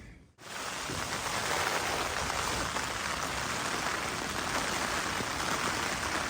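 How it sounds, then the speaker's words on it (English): Steady heavy rain falls across a woodland hammock camp, a dense continuous hiss that starts abruptly after a brief quiet moment and holds loud and unbroken throughout. "The rain's come. It wasn't forecast to rain like this."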